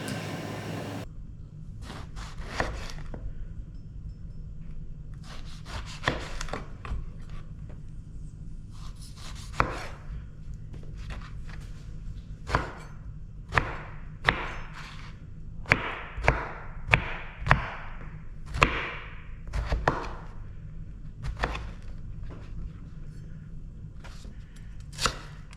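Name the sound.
knife dicing aubergines on cutting board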